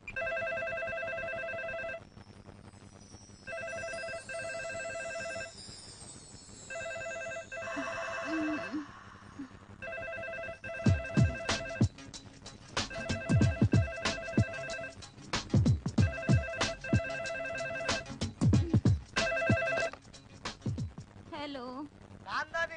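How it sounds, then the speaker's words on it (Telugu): A telephone rings repeatedly in a Telugu movie morning scene, regular electronic ring bursts separated by short pauses continuing throughout, with people talking and bustling over the later rings. "ఫోన్ ఎవరికి?"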